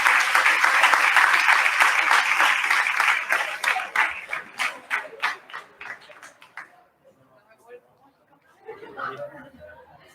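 A crowd applauds at a secondary-school graduation ceremony, starting as dense, loud clapping that thins into scattered individual claps before dying away, with faint chatter returning near the end.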